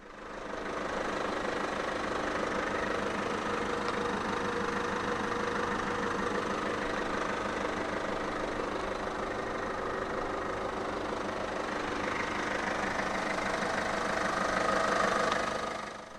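A 2015 Peugeot 3008 1.6 BlueHDi 120 diesel engine idles steadily with a close, even clatter and hum that holds constant throughout, with no talking.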